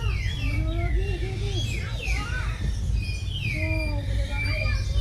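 Many birds chirp, tweet and whistle together inside a zoo bird dome aviary, with overlapping calls close and steady throughout and a low background rumble, and people talking nearby.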